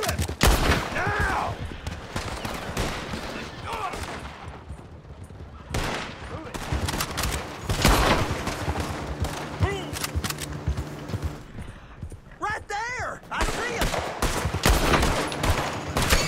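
Gunfire rings out in a Western-style shooter video game: several loud shots and bursts of rapid fire, scattered through the stretch between voices.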